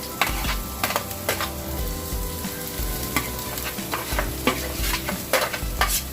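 Chopped onions sizzle in hot oil in a pan for an Indian king prawn curry while being stirred, with a steady close frying hiss and repeated scraping and clinking of the spoon against the pan.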